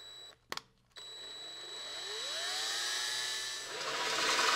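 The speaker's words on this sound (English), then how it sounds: "So we'll just drill this hole." A power drill bores a pilot hole through a network rack panel, starting after a couple of sharp clicks and a short spin-up; the motor whines steadily, rising in pitch, and grows louder as the bit cuts through near the end.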